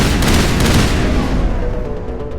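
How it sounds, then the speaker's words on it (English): Dense burst-fire gunshots in the Mass Effect video game, loud and close, rapid overlapping shots rolling continuously with no pause. "I'm the one doing the burst fire"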